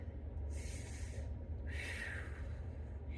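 Slow audible breaths drawn in and pushed out during a plank core exercise, three soft hissing breath sounds at close range over a low steady background hum.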